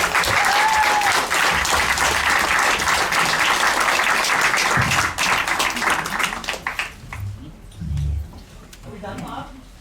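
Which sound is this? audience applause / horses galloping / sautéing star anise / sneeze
audience applause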